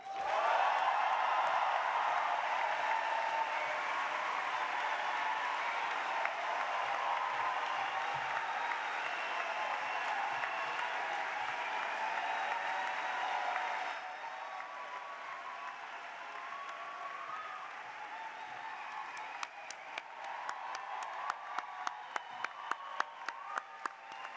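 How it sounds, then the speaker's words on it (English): A graduation ceremony audience applauds steadily for a graduate crossing the stage, a dense roomful of clapping that stays loud, then thins into a softer patter with a few distinct close claps near the end. "So please give a round of applause to Aishwarya Tripathi"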